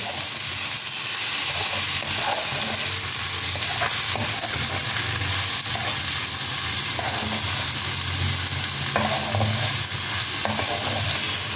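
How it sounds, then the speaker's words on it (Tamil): Ivy gourd (kovakkai) curry sautéing in a pan, a loud, steady, close sizzle and hiss that runs unbroken throughout, with faint stirring scrapes underneath. "இங்கே கறி வதங்கிட்டு இருக்கா? சரி வதங்கட்டும்."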